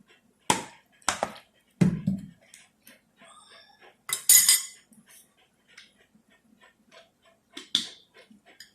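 Chopped green chillies and coriander are mixed with soy sauce and chilli sauce in a bowl, heard as sparse, close clinks and taps of a spoon against the dish separated by quiet gaps.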